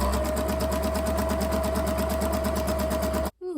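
Sewing machine stitching a zigzag edge on skirt fabric, a fast rhythmic mechanical whirr running loud and continuous before stopping abruptly.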